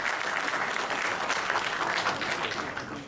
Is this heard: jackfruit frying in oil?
no